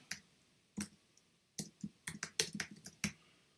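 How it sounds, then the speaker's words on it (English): Keys clatter on a computer keyboard in short bursts of clicks, some single and some in quick clusters, close and fairly quiet, with brief pauses between strokes and no voices. "if we start first with just typing the actual name of the concept in"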